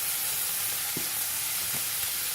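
Fillet steak frying in a pan with butter, a steady close hiss and sizzle throughout with a couple of soft spits, no talk.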